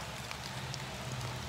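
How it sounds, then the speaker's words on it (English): Steady rain falling outdoors on a property being cleared of ivy and dead trees, a soft continuous patter with faint scattered drops, no talking. "it's raining, like I said"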